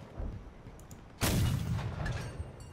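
A tank cannon fires in the video game Crossout, a Tiger H1 tank build, giving one sudden loud boom partway through that rumbles and fades over a second or so.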